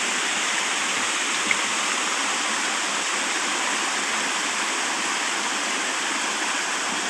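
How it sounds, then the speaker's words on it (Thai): A steady, full rush of a forest waterfall roars continuously, close and even, with no voices. "บรรยากาศน้ำตกทำจาดจ้ะ"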